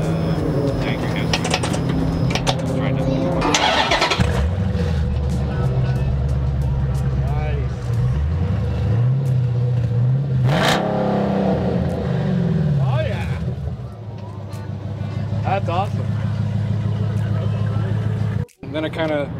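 A Dodge Charger restomod with a Black Widow exhaust and race metal rumbles loudly through a steady low idle and several rising revs, close by, with people talking over the engine.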